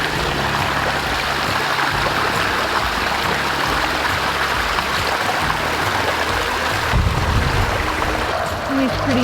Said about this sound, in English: there's a really beautiful natural spring right here